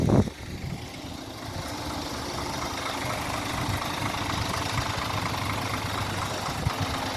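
A 2017 Scania K450EB coach with a Euro 6 Scania engine and OptiCruise automated gearbox idles in a steady, even drone, close by and unchanging throughout.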